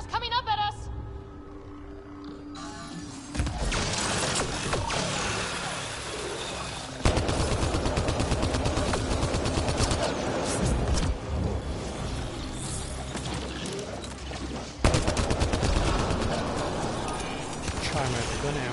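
Sustained automatic gunfire from a Mass Effect Andromeda battle on PS4, loud rapid volleys that start abruptly and keep rattling in long bursts, with voices talking over the shooting.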